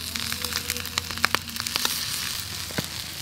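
Soy sauce hitting a hot pan of Yangzhou-style fried rice, a steady close sizzle and crackle with sharp spatter pops and stirring clicks throughout.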